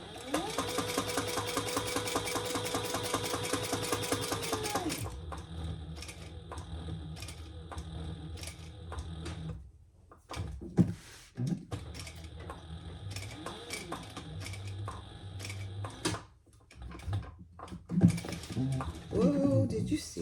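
A sewing machine stitches around the zipper pocket of a crossbody bag in a steady mechanical run for several seconds, then stops. Short bursts, clicks and handling noises follow.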